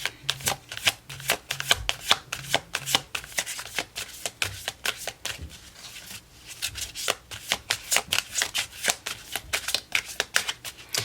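A deck of tarot cards shuffled by hand, with rapid, repeated crisp papery slaps and riffles close up, continuing steadily with no one talking.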